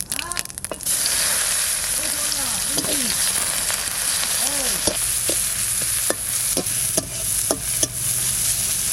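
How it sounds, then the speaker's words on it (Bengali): Onions and cumin frying in hot oil in a pan, a loud, steady sizzle with repeated sharp spatula taps and clanks against the pan, close up, with a voice speaking at the start. "পেঁয়াজটা ভাজা হয়ে গেছে"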